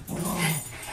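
A foster dog gives a short, low growl close by, lasting about a second in an indoor setting, with no talking over it.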